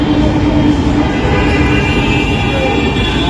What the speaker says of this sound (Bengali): মেট্রো যাচ্ছে, নিচে লেগুনা দাঁড়িয়ে আছে নিচে